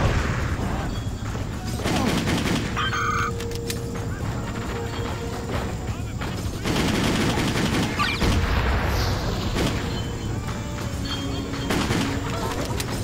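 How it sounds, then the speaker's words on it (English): Sustained gunfire in Just Cause, with rapid bursts of automatic shots and cracking reports layered over steady combat rumble, loud and continuous with swells throughout. "Even these guys are shooting their own people."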